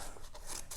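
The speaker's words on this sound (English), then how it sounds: "Gonna have to use scissors." Short rasping snips of scissors cutting through taped packaging, close up, a few quick cuts in under a second.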